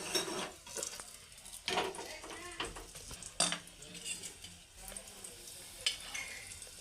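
A tempering is added to a pot of rasam in a home kitchen, giving a few sharp metallic clinks of a spoon against the pot over a low sizzle, with quiet gaps between the strikes.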